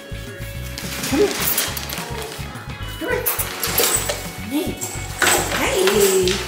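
Puppies at a dog kennel bark, yip and whimper in short excited bursts close by, mixed with a person's voice calling to them and windy outdoor background noise.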